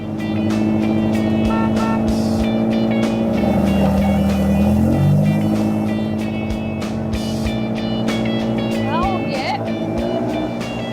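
A car is driven fast, its engine droning loudly and steadily with shifting revs, while a voice speaks over the motor noise.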